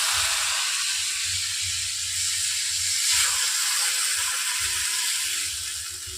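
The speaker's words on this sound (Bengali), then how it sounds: "এরপর আমি জল দিয়ে দিচ্ছি সামান্য।" Water poured into a hot pan of cooking flat beans sends up a loud, steady hiss that lasts several seconds, with low bubbling underneath, before easing slightly at the end.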